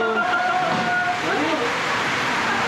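Steady rain pours outside a shelter on a hike to Jamacho Gumba above Kathmandu Valley, a continuous wet hiss that runs the whole time while people talk and eat close by.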